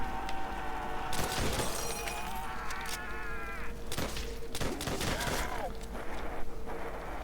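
M1 Garand rifle shots in World at War Zombies ring out as a few separate sharp cracks spaced a second or so apart, over a constant bed of in-game ambience and whining effects.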